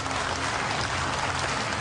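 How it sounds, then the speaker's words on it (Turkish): Officers, judges and prosecutors applaud together after a briefing, a steady dense wash of clapping that fills the room evenly from start to finish with no voices above it. "Üst rütbeli askerler, hakim ve savcılar briefingin ardından birbirlerini dakikalarca alkışlıyor."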